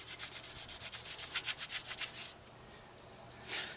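A rag or pad rubs grease off a car brake surface in quick, steady back-and-forth strokes, about twenty close swishes, then a quieter pause and one final scrub.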